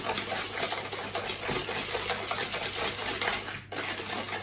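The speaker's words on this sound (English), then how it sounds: "We're whisking." Eggs whisked in a bowl for Halloween cupcake batter, a fast continuous metallic rattling of the whisk against the bowl, close and steady, briefly dropping out near the end.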